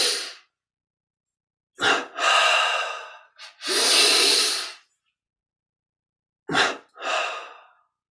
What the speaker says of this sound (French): Puis, on inspire lentement par les narines sur 5.